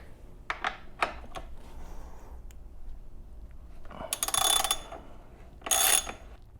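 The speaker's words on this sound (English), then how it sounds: "we're going to loosen the front axle with a 14mm hex, and this is on there pretty tight" A wrench with a 14mm hex loosening a tight front axle on a Kawasaki Ninja 1000 motorcycle gives several sharp ratcheting clicks early, then two louder, longer grinding bursts near the end, close and with no talking.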